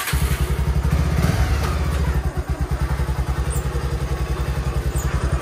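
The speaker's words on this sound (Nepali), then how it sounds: "मेरो भाइले चाहिँ बाइक झिक्दैछ" A motorcycle is wheeled out and started, its engine settling into a loud, close, steady rhythmic putter after some clattering handling, with no talk.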